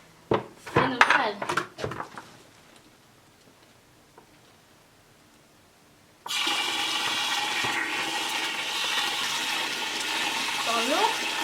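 Water rushing into a house's pipes after an outdoor valve is opened: a few clattering knocks and a quiet lull, then a sudden loud, steady hissing flow that continues to the end.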